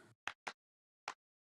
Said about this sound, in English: Without the spreader and the reverb, for example, the claps sound like this.